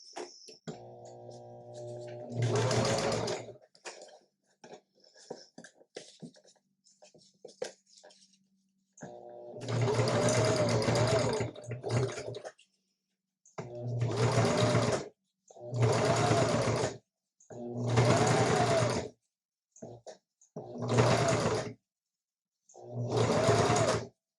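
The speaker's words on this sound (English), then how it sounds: "sewing on the curve is a little weird because you've got this curve and then you've got this curve, so you're constantly shifting." A sewing machine stitches a curved seam on a batik quilt in a series of close, stop-start bursts, each run lasting a few seconds and separated by short pauses while the fabric is shifted. No one talks.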